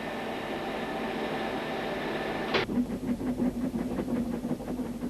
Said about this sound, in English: Here's the powerful double engine, Earl of Merioneth, built at Boston Lodge to cope with very steep climbs